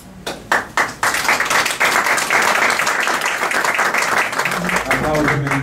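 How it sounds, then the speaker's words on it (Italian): An audience applauds an author at an interview event, opening with a few separate claps that swell into full, loud, dense applause; a voice speaks over the tail end. "Applauso meritatissimo"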